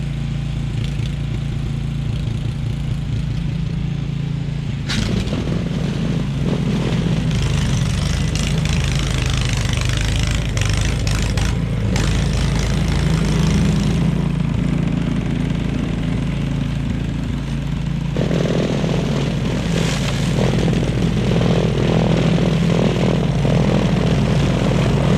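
A Simplicity 1222EE single-stage snow blower cuts through wet, heavy snow packed down by tire tracks on asphalt. Its engine roars loudly and continuously close by, with the churning rising and easing as it bites into the snow.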